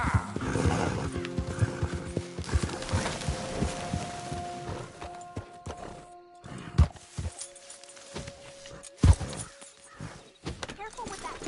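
A horse whinnies several times over clopping hooves and music in the video game Red Dead Redemption 2, with voices talking throughout and a couple of sharp thuds.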